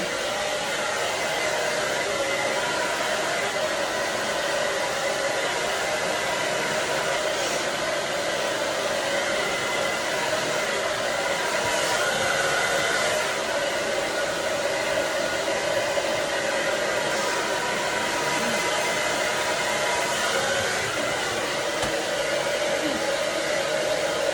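A hair dryer blows on wet, freshly brushed hair in a steady, unbroken close whir for the whole stretch, with no speech over it.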